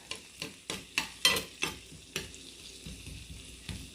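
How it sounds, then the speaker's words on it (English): Minced garlic and onions sizzling in oil in a home kitchen pan, with a steady hiss broken by rhythmic scrapes and stirs about twice a second. The sound is close, moderately quiet and without talk. "Also adding a very small amount of minced garlic. Just going to let that get all infused there in the oil."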